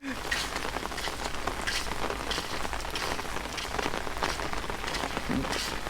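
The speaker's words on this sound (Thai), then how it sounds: "วันนี้ฝนตกนัก" Heavy rain pours steadily onto surfaces, a dense constant patter and splash, loud and close, with a faint voice in the background.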